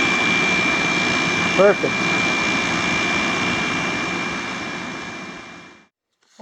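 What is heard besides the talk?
RV air conditioner compressor running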